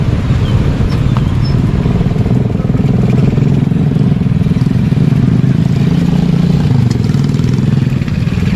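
A steady motorcycle engine rumble drones throughout as motorcycles cross a new bridge in Laurel, Batangas, close and loud, with a faint clatter and no clear pass-by swells.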